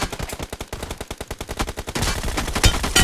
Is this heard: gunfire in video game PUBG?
yes